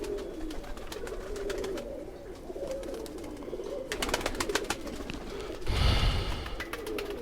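Pigeons coo steadily in a loft on an evening, their low repeated throaty calls continuing throughout, with a brief burst of fluttering or rustling near the end.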